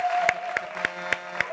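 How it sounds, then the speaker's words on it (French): Studio audience on a French-language TV talk show clapping, heard as several sharp, evenly spaced claps about a quarter second apart over a steady tonal hum, fairly close and without speech. "Allez, on l'applaudit encore très fort, s'il vous plaît."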